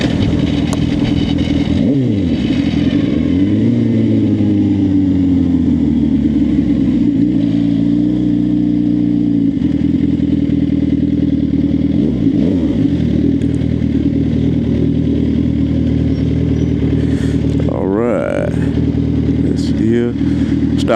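A Suzuki GSX-R 750 motorcycle engine runs loud and close, rising and falling through several revving surges before a sharper burst of throttle near the end.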